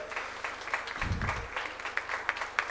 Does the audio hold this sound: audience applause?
yes